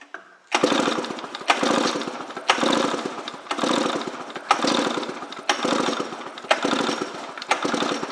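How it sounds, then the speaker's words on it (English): A 1998 Polaris XC 700 twin snowmobile engine is cranked over by hand pull for a compression test, giving eight rhythmic, evenly spaced chugging strokes about once a second, loud and close with no talking. "1998 Polaris 700XC domestic twin engine compression test"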